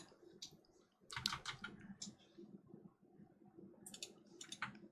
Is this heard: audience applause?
no